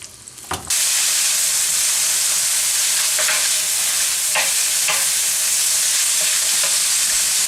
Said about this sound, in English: I'm gonna stir fry this till my pork is basically cooked.